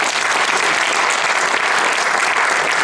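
A concert audience gives loud, dense, continuous applause for a gypsy-jazz guitarist, a full wash of clapping with no voices over it.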